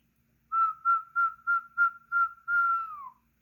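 A person whistles near a pet African grey parrot, six short even-pitched notes in a steady rhythm followed by a longer note that slides downward, clear and alone against a quiet room.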